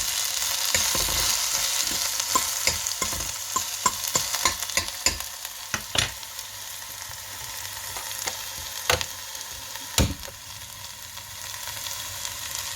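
Spices tempering in hot oil with onion for a white chickpea snack, a steady loud sizzle with sharp crackles and stirring clicks scattered throughout, no voices.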